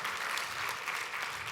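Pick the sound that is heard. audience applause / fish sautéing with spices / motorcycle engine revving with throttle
audience applause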